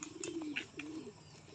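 A racing pigeon gives a soft, low, rolling coo, close by and fairly quiet, with faint background noise at a pigeon loft.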